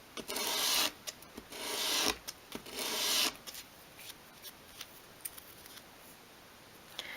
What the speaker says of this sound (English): you can take a small piece of sort of medium grade sandpaper and just finish that off in your hand